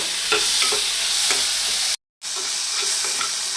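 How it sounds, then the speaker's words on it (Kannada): Onion and tomato fry in a pan for a paneer masala gravy, a loud continuous sizzle broken by scraping stirs, with a brief cut to silence midway and no voices. "ಈರುಳ್ಳಿ ಸ್ವಲ್ಪ ಮೇಲೆ ಟೊಮೆಟೊ ಹಾಕಬೇಕು ಟೊಮೆಟೊ ಮೆತ್ತಗಾಗೋವರೆಗೂ ಹುರ್ಕೋಬೇಕು"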